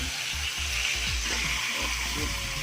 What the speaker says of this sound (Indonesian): Ini kita panggang dulu pakai bumbunya di bawah ya.